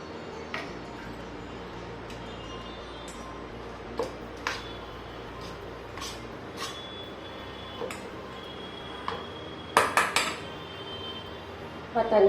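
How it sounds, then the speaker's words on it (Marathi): Boiled, peeled and cooled potato being mixed by hand into a fasting patties stuffing, with sparse soft clinks and taps of a utensil against a bowl over a quiet room, and a louder cluster of clatters near the end. "इथे आता उकडलेला बटाटा ज्याचे साल काढून थंड करून घेतलेला आहे तो टाकायचा आपल्याला हे छान मिक्स करून घ्यायचं आता"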